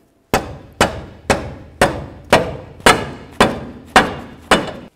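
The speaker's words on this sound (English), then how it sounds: "Let's go ahead and give this a couple bonks, try to drive it in." A hammer strikes nine times to drive a front lower control arm bushing into a 2003-08 Toyota Matrix, the loud, close metallic blows falling at a steady, even pace with short ringing decays and no talking.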